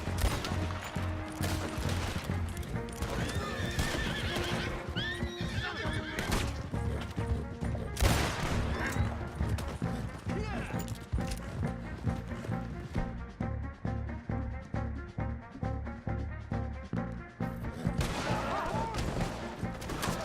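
Gunfire in Red Dead Redemption 2 bursts in dense, loud volleys of shots and crashes, with horses whinnying and hooves clattering amid the chaos of a shootout.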